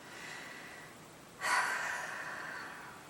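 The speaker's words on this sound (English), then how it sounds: "And deep breath." A single deep breath is drawn in sharply during a progressive muscle relaxation exercise, a brief airy rush that trails off into a soft exhale over quiet background.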